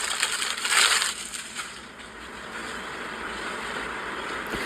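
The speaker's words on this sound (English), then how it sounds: "I could tell by the fabric, just the sound of it" A polyester, satin-like shirt fabric rustles close up with a dry, crinkly scrunching that is loudest near the start, then settles into a softer continuous swish.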